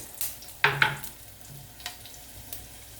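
Food sautés in a pan, a short loud sizzle flaring up and then settling into a quieter hiss with a few faint stirring clicks, alone without talk.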